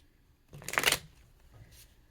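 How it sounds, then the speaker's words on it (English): A single quick riffle of tarot cards being shuffled, a close, crisp burst of about half a second followed by faint handling rustle. "I'm going to shuffle this one more time"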